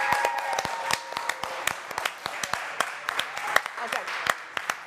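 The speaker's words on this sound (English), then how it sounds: "everybody give yourselves a round of applause" Scattered, uneven hand claps from a small group at a charity cooking event finale, rising and falling with people talking over them.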